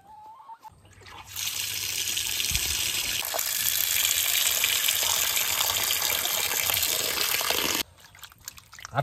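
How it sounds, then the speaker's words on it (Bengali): Mutton being washed under a running tap in a home kitchen, a steady loud gush of water pouring for several seconds before the flow stops abruptly. "চলো আগে মাংসটা ধুই"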